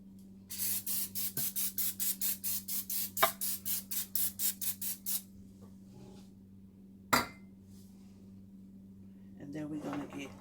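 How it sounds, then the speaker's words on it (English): A quick run of about twenty short, sharp bursts of Pam cooking spray into a baking dish in a steady rhythm, then a clunk of cookware and a faint rustle. "I'm just going to spray the bottom with a little bit of Pam."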